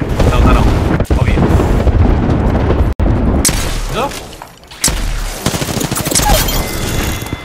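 Heavy gunfire in the video game Apex Legends, dense rapid shooting and booming blasts filling the whole stretch, loud and close, with a couple of brief gaps and players talking faintly underneath.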